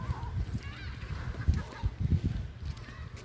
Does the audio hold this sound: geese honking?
yes